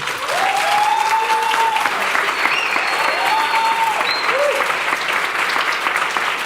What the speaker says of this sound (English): Please join me in a colossal round of applause for Anderson.